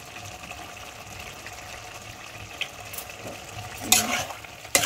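Bottle gourd and prawns being stirred in a frying pan with pre-fried potatoes, a soft steady sizzle with a few sharp scraping clinks of the spatula near the end, close and fairly quiet.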